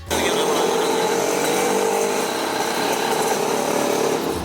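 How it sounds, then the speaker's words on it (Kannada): A Yezdi Monarch motorcycle's single-cylinder two-stroke engine drones steadily and loudly up close, its buzzy, high-pitched two-stroke rasp holding an even idle throughout. "single cylinder two stroke bike ಇದು ಸೊ ಟೂ ಸ್ಟ್ರೋಕ್ ಆಗಿರೋದ್ರಿಂದಲೇ ಇದರ ಒಂದು ಸೌಂಡ್ ಕೇಳೋಕ್ಕೆ"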